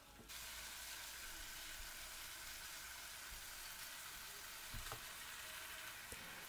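Costco ground pork being stir-fried with tofu in a pan, seasoned with green onion, garlic and ginger: a steady, even sizzle and hiss throughout, with a couple of faint utensil clicks.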